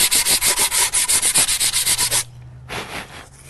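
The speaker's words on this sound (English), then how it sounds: "Just a little bit of sanding" Rapid rhythmic scratching of sandpaper rubbing back and forth over a wooden mini planter, loud and close, then a brief pause before a few softer strokes.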